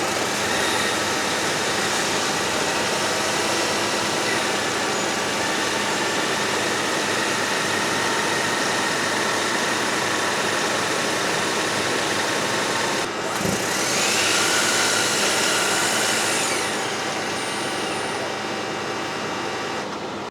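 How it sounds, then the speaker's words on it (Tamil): A Maruti Grand Vitara engine idles steadily for about twenty seconds, a constant broadband hum and whir with no voices, briefly swelling a little louder near the end. "இந்த என்ஜினோட வைப்ரேஷன்ஸ் லெவல்ஸ் எப்படி இருக்குது அப்படின்றத இப்போ செக் பண்ணிடலாம்"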